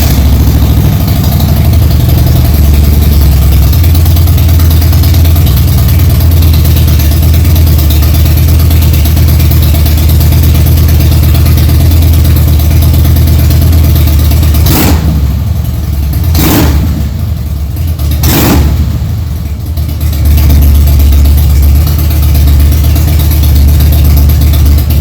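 An air-cooled Harley Twin Cam motorcycle engine is fired up with its filter fitted and settles into a loud, steady idle, with two brief dips in its rumble before the engine carries on.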